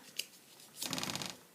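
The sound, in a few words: folding a sheet of paper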